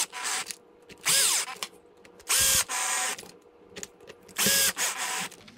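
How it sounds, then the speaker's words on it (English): A power driver tightens the screws on a radio-controlled car's differential cover in four short, loud whirring bursts with a rising whine, separated by brief pauses and faint clicks. "And we can reinstall the diff cover, tighten the screws."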